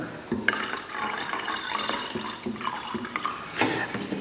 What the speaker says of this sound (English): I'm going to pour some denatured alcohol in there.